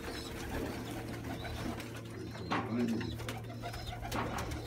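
Moulting pigeons in a loft coo with low, rolling calls amid a busy background of rustling and fluttering, moderately close, while someone talks throughout.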